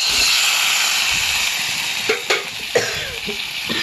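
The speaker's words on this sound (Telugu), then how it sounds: "ఈ టమాటా ముక్కల్ని వేసుకోవాలి." Tomato pieces hit a hot pan of oil for a peanut chutney, giving a loud steady sizzle and hiss throughout with a few sharper pops and spatters near the end.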